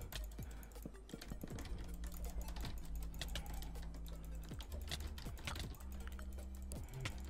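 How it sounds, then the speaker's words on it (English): Rapid mouse clicking during a Minecraft UHC duel, a dense steady stream of close, sharp clicks running throughout over game sounds, with no talking. "I'm not even clicking at full speed"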